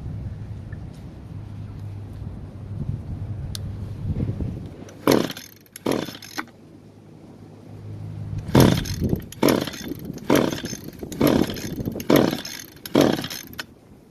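A small Echo edger engine is pull-started after priming. Two short bursts are followed by a run of about six rapid, loud rasping pulls close by, with no speech.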